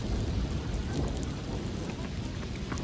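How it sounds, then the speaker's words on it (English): Heavy rain pouring down in a storm near Custer and Mount Rushmore, a dense continuous hiss and patter with low rumbling underneath, loud and unbroken. "And boy, was it raining hard."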